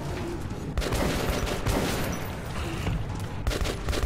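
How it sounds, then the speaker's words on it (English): Gunfire in the Metro 2033 video game, loud dense bursts of shots that run almost without a break, with brief pauses between volleys. "Let's let him do most of the shooting."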